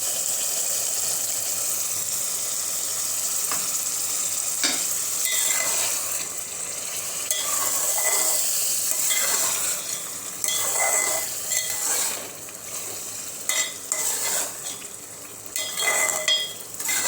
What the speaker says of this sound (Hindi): आधा ग्लास पानी ऐड कर रही हूँ।